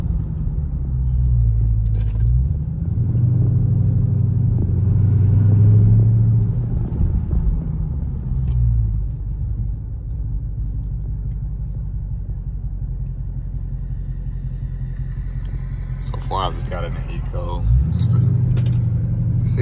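A 2020 Dodge Charger Scatpack 392 Widebody drives along, its engine a steady low rumble inside the cabin, swelling briefly near the start and again toward the end, with a few faint clicks and rattles.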